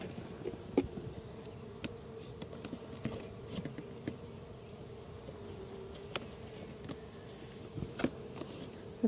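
Swarm of honeybees buzzing, a continuous low steady hum with small taps and knocks scattered through it, moderately close.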